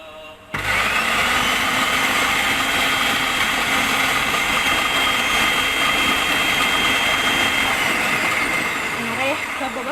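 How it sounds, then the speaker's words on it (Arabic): An electric hand mixer beats cake ingredients in a bowl, starting abruptly and holding a loud, steady whirring drone throughout. The tone shifts slightly near the end, and no one speaks. "ونضرب المكونات مع بعض"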